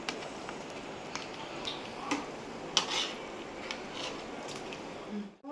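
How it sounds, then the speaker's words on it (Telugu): Boiled chicken for mandi is lifted from a pot of cooking water into a bowl. Faint scattered metallic clinks and scrapes of a utensil against cookware sound over a quiet room. "ఇప్పుడు మనం ఈ చికెన్ని మొత్తం తీసి ఒక గిన్నెలోకి తీసుకుందాము"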